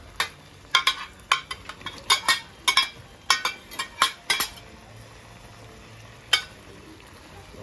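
A metal spatula clinks and scrapes rhythmically against a pan as eggs are stirred back into a Cantonese tomato stir fry, a quick run of sharp taps over a soft sizzle, then a single late clink.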